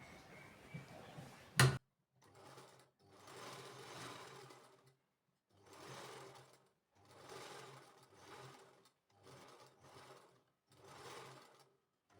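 Sewing machine stitching a short kurti: several bursts of rapid mechanical stitching separated by short pauses, close and fairly quiet, after a brief clack at the start.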